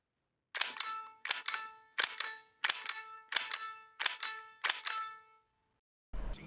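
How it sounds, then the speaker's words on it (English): A gun salute for a fallen warrior: seven sharp, evenly spaced gunshot cracks ring out in a steady rhythm, each ending in a short decaying tail, followed by a brief different thud at the end. "And now, a 21 gun salute for a fallen warrior"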